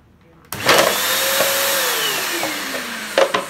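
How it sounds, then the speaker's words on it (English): A vacuum pump switches on abruptly and runs with a steady whining hum whose pitch slowly sinks, close by and loud, with a few faint clicks near the end. "Now let us see what will happen if I switch on this vacuum"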